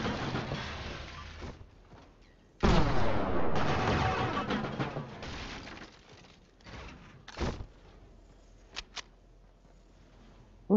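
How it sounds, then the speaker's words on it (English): Shotgun fire in a video game: a sudden heavy blast trailing into a long rumbling decay, followed by smaller bursts and a few sharp distant cracks, with no talking over it. "Where's that shotgun from?"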